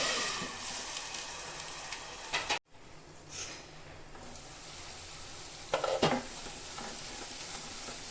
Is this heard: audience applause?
no